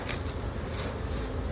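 Honey bees hum in a dense, steady drone from an opened single brood chamber hive, a continuous close buzz with no talking.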